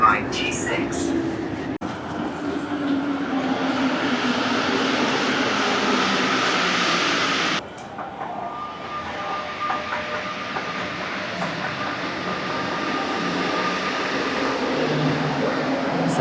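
A Lyon metro train runs loudly and steadily on its shallow line, a continuous rumbling roar with a brief dip partway through and faint whining tones later.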